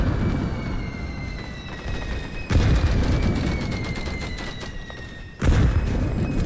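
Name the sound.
grenade explosion and gunfire in a video game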